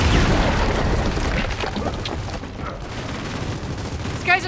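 A frag grenade blast amid heavy gunfire in the video game Gears of War 4, a loud rumbling boom at the start fading into sustained rattling fire and battle noise.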